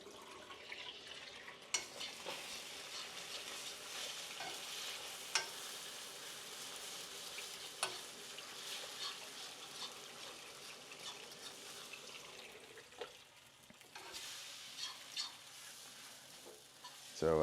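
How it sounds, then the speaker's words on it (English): Three eggs sizzle and crackle steadily in a hot pan, a continuous frying hiss with a few sharp pops and clicks, close and fairly quiet. "I love that sizzle as the eggs hit that pan."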